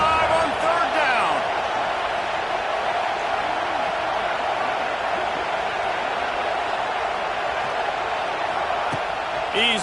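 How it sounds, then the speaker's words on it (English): An Ohio State Buckeye stadium crowd roars in a sustained, loud wash of cheering on a third down, steady from start to finish, with some faint talk mixed in. "The Buckeye crowd alive on third down."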